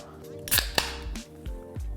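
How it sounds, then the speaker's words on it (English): A sharp snap and hiss as a can of White Claw lime hard seltzer is cracked open, with a second quick click, over background music. "simply open your White Claw lime."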